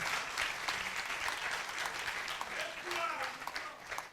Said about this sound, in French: Et j'aimerais que vous puissiez applaudir à travers le directeur général, toute l'équipe qui l'accompagne.